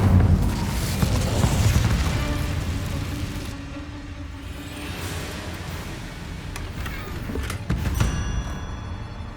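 A fire spell from Hogwarts Legacy bursts with a loud whooshing rush that fades into a low crackling burn, followed by a second sharp flare near the end.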